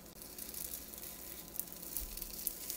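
Whole-wheat bread dough stuffed with meat sizzles steadily in a greased skillet on the stovetop, a continuous close frying hiss with faint crackles and no talking.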